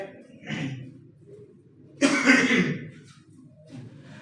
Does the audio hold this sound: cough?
yes